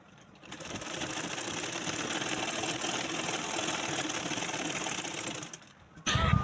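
A domestic sewing machine runs a continuous stitch at its longest stitch length, starting after a brief quiet moment and whirring steadily and close by for about five seconds before slowing to a stop, followed by a short clunk.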